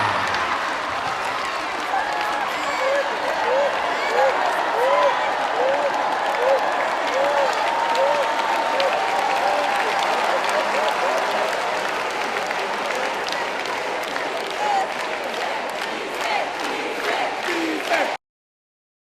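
A live comedy show audience in Abidjan breaks into sustained applause, dense clapping filling the room at steady loudness for most of the stretch before cutting off abruptly.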